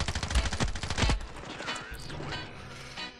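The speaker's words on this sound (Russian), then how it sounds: "Денис, я слышу твои выстрелы" Gunfire in the mobile shooter Standoff 2 comes as rapid bursts of sharp shots, dense and loud at first, then thinning into scattered fainter shots against game background noise.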